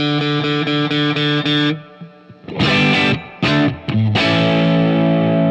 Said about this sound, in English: This amp has reverb in it and it's good.